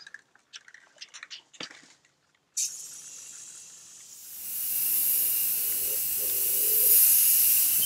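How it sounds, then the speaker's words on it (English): A can of spray paint hisses in one long continuous burst onto a metal garden bench, loud and close, after a few soft scraping clicks at the start. "when you are spray painting something like this, to do the long strokes"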